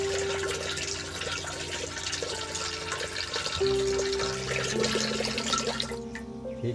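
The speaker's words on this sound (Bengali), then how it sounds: "এবার হাঁড়ির মধ্যে দেখুন বন্ধুরা জল দিয়ে দিচ্ছি" Water pours into a cooking pot set up with a stand for steaming dhokla, a continuous close splashing flow whose pitch shifts as the pot fills, with no talking.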